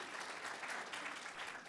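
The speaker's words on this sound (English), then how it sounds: "a round of applause for Philadelphia right now" An audience at the ThinkFest 2014 talk applauds steadily for Philadelphia, a dense wash of clapping from a large crowd heard at a moderate distance, with no voices over it.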